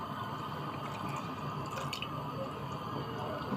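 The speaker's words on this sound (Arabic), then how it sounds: "هنزل بقى باللبن بتاعنا كده بالقشطه كله اهو" Milk with cream is poured into a pot of sweetened belila, a faint, soft liquid trickle with small splashes and drips, close by and without talk.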